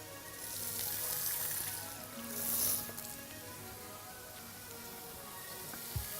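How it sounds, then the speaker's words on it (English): Tap water runs into a bowl holding leftover spice residue while a chicken curry is being made, a steady close splash that swells briefly near the middle, then continues more evenly before a small knock at the end. "So I'm going to put some water in the bowl."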